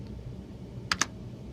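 Two quick, crisp keystrokes on a computer keyboard come close together, faint and isolated against a quiet room hum.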